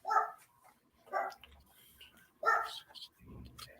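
A dachshund barks three times in short, loud bursts, spaced about a second apart, followed by low rumbling noise; faint speech-like sound sits in the background.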